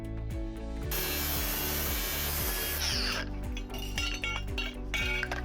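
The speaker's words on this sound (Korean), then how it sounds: "여기 있는 각파이프 한번 잘라서 테스트를 해볼게요" A repaired angle grinder cuts square steel pipe with a harsh, loud roaring burst of about two seconds, then scrapes and clinks. A steady melodic backing runs throughout.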